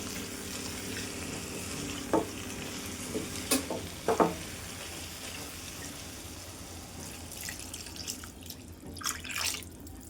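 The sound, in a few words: stuffed eggplant frying in oil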